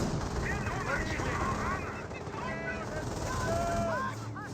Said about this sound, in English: AT gun finds some shots in the infantry now.